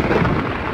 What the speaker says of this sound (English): Look at the lightning.